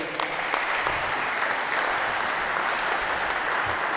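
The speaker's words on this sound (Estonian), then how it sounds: "aitäh poisid, anname aplausid poisile." Applause from a group of young basketball players at a coaching training session in a gym, steady clapping filling the whole stretch at moderate loudness with no talk over it.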